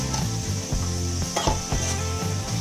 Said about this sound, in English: Again, fry this.